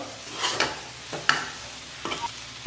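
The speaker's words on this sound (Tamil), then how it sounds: "கொத்தமல்லி நல்லா கலந்து விட்டுடலாம்." Rava with fresh coriander and curry leaves stirred in a pan, a few soft scraping strokes with light sizzling underneath, close and moderate in level with no voices.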